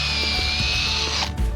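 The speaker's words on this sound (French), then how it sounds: "Vous voyez, là j'ai percé." A drill bores a hole during installation of chestnut paling fencing, a steady whining mechanical drone lasting over a second before it stops abruptly.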